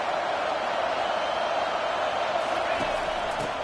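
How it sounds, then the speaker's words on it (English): Steady roar of a football stadium crowd at USC during a Utah State game, a dense, continuous wash of many voices holding at the same loud level throughout, with no single voice standing out. "This crowd bringing the energy and noise early."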